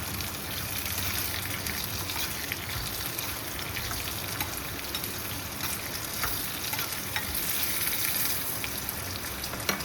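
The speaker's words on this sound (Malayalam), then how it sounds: "5 ചുവന്നുള്ളി അരിഞ്ഞതും 2 വറ്റൽമുളകും ചേർത്ത് നന്നായി ഇളക്കുക" Chopped shallots and dried red chillies frying in hot oil, a dense continuous crackling sizzle close by, with occasional stirring taps, no talking.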